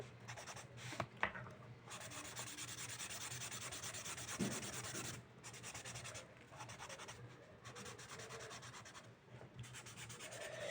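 A marker or pencil colouring in a drawing of a Barbie hat: soft, close scratchy rubbing strokes in quick bursts with short pauses between them, quiet and alone.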